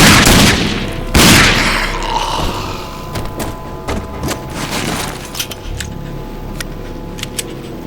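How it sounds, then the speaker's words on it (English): Enemy gunfire in a shooter video game: a couple of heavy blasts open, then scattered sharp shots crack out irregularly over a steady background hum. "weasels that sit behind cover and shoot at you"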